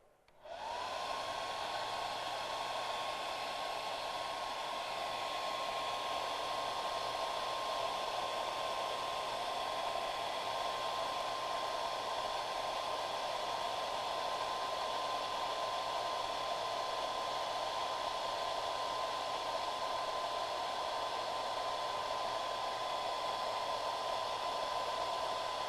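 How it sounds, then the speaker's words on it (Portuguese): A hair dryer blows steadily and loudly for the whole stretch, drying hydrated cobalt chloride to drive off its water, with a constant airy roar and a fixed whine and no voices over it. "Vou utilizar um secador e tentar fazer com que toda a água de hidratação do cloreto de cobalto"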